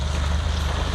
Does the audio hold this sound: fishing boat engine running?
yes